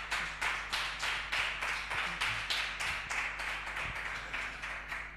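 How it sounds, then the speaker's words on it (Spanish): Rhythmic applause, with steady even claps about four per second from a small group, fairly quiet and unbroken for several seconds. "Tenemos un aplauso para la Chiche,"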